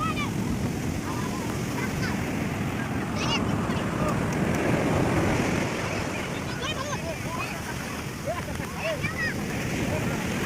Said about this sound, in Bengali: জলে যে ঢেউটা আসছে